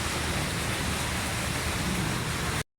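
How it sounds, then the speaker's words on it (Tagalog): Heavy rain pouring steadily as a dense, constant hiss, loud and close, then cutting off abruptly at the end. "Napakalakas ng ulan."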